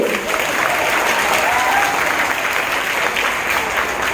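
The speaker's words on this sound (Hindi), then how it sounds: "बच्चों तालियां बजती रहनी चाहिए।" An audience at a school prize-giving ceremony claps continuously, a loud, even roar of many hands that holds steady for the full few seconds, with a faint voice briefly audible in the mix.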